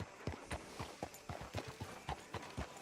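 Horse hooves clip-clop at a steady walking pace in a town in Red Dead Redemption 2, the evenly spaced hoofbeats standing out clearly against a quiet background.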